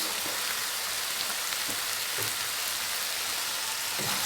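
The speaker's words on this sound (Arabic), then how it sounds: "غادي نحرك هاد العناصر هادو حتى هما العطريه مع هاد الدجاج" Chicken with spices and parsley fries in a pan with a dense, steady sizzling hiss, while a few soft knocks of stirring recur every second or so, close and continuous.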